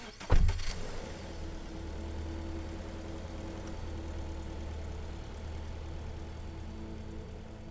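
A car engine in a psychological horror video game turns over with a brief thump and then idles steadily, a low continuous rumble and hum that holds evenly to the end without any voices.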